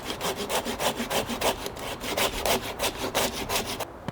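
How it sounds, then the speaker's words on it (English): Hand saw cutting back and forth through a large dead tree branch for firewood outdoors in freezing winter wilderness, a steady rhythmic rasp of strokes, close and loud, with no talking. "I think I'm gonna put the effort in and cut this down"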